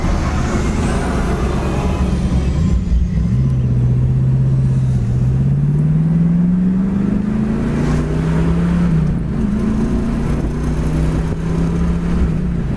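A 1965 Ford convertible's engine drones steadily while driving, its pitch rising and falling through gear shifts, loud and close with road rumble underneath.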